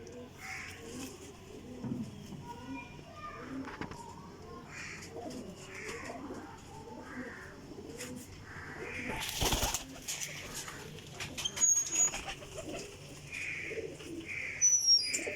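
Rampuri Teddy pigeons coo quietly at a moderate distance in low repeated burbles, with a harsher call and a short burst of rustling noise midway and other birds faintly around.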